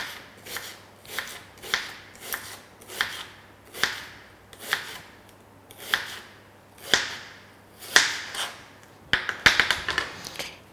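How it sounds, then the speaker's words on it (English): A knife thinly slices food on a cutting board, about a dozen evenly spaced, crisp strokes close by, each a short scrape and tap, quickening into a flurry of cuts at the end. "So just thinly slice it."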